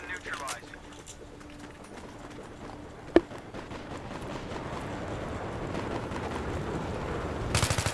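Battlefield 3 gunfire from a firefight at distance: faint, scattered shots with one sharp crack standing out, over a low rumbling battlefield bed that swells toward the end.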